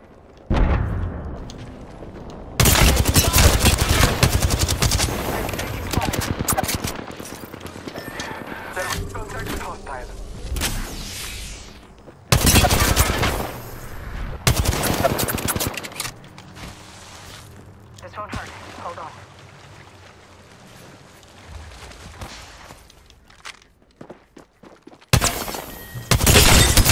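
Gunfire in the Apex Legends video game, where heavy bursts of automatic weapon fire alternate with quieter stretches of movement, mechanical game sounds and scattered shots, with in-game voice lines over parts of it.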